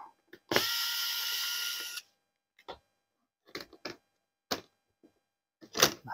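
A large screw comes out of an LG 84-inch TV under a power driver, giving a two-second whirring buzz followed by a series of short clicks and taps from handling the panel and parts.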